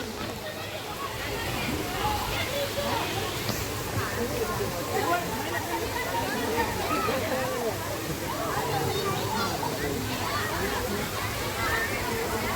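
River water rushes and splashes where people bathe near the Jatashankar Mahadev temple in Junagadh, a steady close flow with sloshing as voices and children talk and play throughout.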